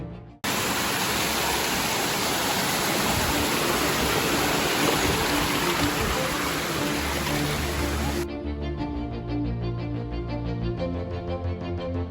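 The Mukhpochhora waterfall in Rangamati roars as a dense, steady rush of falling water, loud and close. Partway through, the sound drops to a softer, more distant wash.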